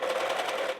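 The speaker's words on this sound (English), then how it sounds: "then I'm gonna serge the seam allowances together" A serger overlocks the seam allowances of a denim jacket sleeve, giving a brief, steady, close machine whir that cuts off abruptly.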